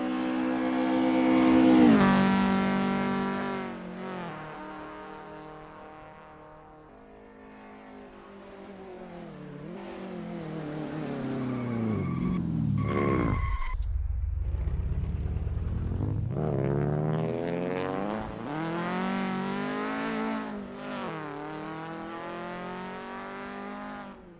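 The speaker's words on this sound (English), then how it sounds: "getting to grips with the Volkswagen Golf MK2 GTI in this practice session" Volkswagen Golf MK2 GTI racing in Assetto Corsa on the Rostock Osthafenkurs, its engine rising and falling through gears, braking down to a low idle-like dip, then revving back up again, steady and close with no talk.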